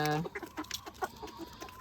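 A hen wearing a saddle clucks during morning chores, making a few soft, scattered clucks and murmurs close by in a quiet setting, with no one talking.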